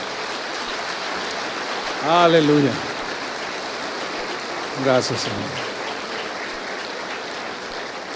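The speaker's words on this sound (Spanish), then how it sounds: "Denle otro aplauso al Señor." A church congregation applauds during a worship service, a steady wash of clapping that runs the whole time while someone briefly speaks twice over it.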